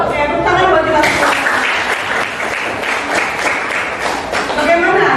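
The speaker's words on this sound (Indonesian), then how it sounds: "tepuk tangan buat kita semua" A classroom group claps together in loud, sustained applause filling the space, with voices talking and cheering over it.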